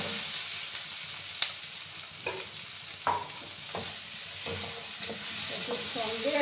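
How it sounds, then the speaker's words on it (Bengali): Spice paste and taro chunks frying in a pan are stirred repeatedly, with a steady sizzle under scattered scraping knocks of the spoon against the pan; in a Bengali taro and rohu fish curry. "কচুর সঙ্গে আবার ভালো করে আমি মিক্স করে দিচ্ছি।"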